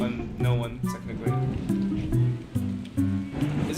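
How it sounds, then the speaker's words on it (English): Rain patters inside a house in the video game A Bird's Story, a soft steady wash of drops under gentle piano-like game music. "Is it raining inside of my house?"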